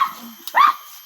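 A single short, close dog bark or yip, quick and sharp, standing out against a quiet background.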